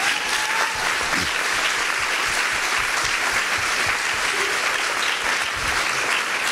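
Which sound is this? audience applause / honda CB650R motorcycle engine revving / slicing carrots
audience applause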